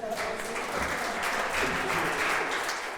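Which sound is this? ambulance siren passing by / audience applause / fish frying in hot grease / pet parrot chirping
audience applause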